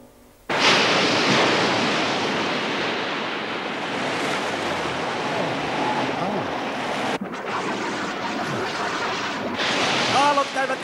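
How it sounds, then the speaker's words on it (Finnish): Ocean waves and gusty wind roar continuously at sea in an animated cartoon, starting abruptly and staying loud, with a sharp break midway and voices briefly audible near the end. "Aallot käyvät yhä vain korkeammiksi."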